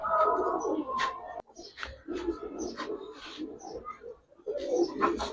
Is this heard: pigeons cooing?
yes